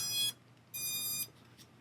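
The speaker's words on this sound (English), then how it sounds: "So the drone is beeping, which means that these switches are in the wrong position." An EMAX EZ Pilot Pro FPV drone, just plugged into its battery, gives two high electronic beeps, each about half a second long and separated by a short gap, clear but fairly soft with no voices.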